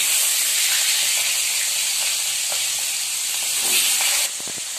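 A fish head fries in hot oil in a kadhai, giving a loud, steady close-up sizzle and hiss with small crackles throughout, easing slightly near the end.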